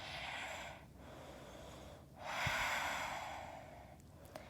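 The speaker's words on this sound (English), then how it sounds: "Keep breathing." Slow rhythmic nasal breathing during a yoga stretch, close and soft, three long inhale-exhale cycles with brief pauses between them.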